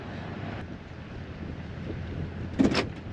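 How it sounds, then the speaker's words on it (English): Strong wind buffeting a microphone outdoors at a racetrack infield, a steady low rushing roar with one brief louder gust near the end. "Getting really windy out here."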